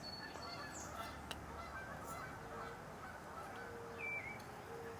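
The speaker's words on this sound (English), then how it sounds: "Mr. and Mrs. Goose are saying hello" Geese honk faintly outdoors, a couple of distant calls rising over a steady broadband background hiss.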